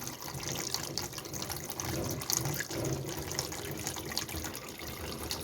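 Dirty water is emptied from a small water dispenser, a steady pouring and splashing that runs throughout at moderate level.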